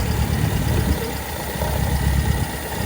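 A Toyota KE20 engine idles loudly and steadily nearby, unevenly, a continuous low rumble with slight vibration and no voices.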